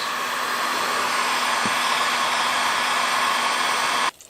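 Heat gun blowing steadily on a Husqvarna 365/375 chainsaw crankcase with new case bearings, a loud, even hiss of hot air running close and alone for about four seconds before cutting off abruptly.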